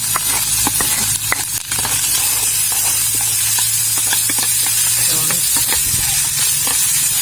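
Fried rice sizzling in a hot pan with garlic and sausage, a steady close hiss of frying with scattered stirring clicks and scrapes throughout, no talking.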